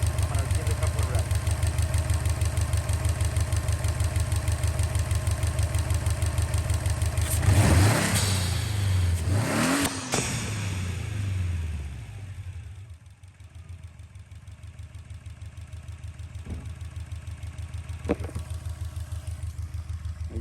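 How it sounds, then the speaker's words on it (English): A turbocharged Subaru idling with a blow-off valve fitted: two quick revs rise and fall over the steady engine rumble, each ending in a sharp venting whoosh, before the engine settles back to idle. "So I'm gonna let you guys listen to the blow-off valve."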